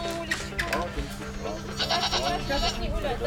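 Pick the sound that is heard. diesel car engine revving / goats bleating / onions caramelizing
goats bleating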